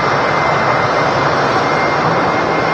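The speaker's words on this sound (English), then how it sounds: "Awesome shot there of that Ryanair." Ryanair jet airliner at Manchester Airport, a loud, steady broadband engine roar that holds evenly from start to finish with no talk over it.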